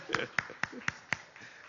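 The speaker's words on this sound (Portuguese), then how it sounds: "uma salva de palmas para os 2 aqui" Five crisp, evenly spaced claps sound faintly in a church Bible-study class, a slow regular beat for two volunteers rather than a full round of applause.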